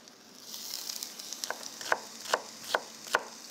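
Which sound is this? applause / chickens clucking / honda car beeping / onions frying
onions frying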